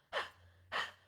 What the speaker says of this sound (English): We're supposed to be doing the panting breath.